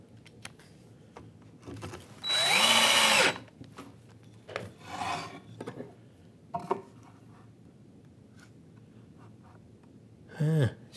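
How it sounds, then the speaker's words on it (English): Hand plane shaving the end grain of a board held in a vice with an end-grain guide: a few short, rasping strokes spaced apart, close and distinct, with quiet handling knocks between them. "catch it with the plane when you're planing the end grain of your wood"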